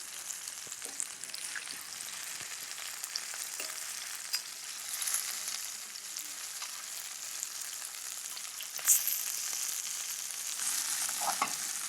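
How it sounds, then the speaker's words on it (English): Steady, close sizzling and crackling of meat frying in hot oil, with occasional louder pops and spits over a constant hiss. "you should hear it sizzle a little bit when you put them in"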